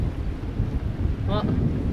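Heavy rain and thunder rumble through a storm over an open boat on the Intracoastal Waterway, a loud, dense wash of low rolling noise that stays constant throughout.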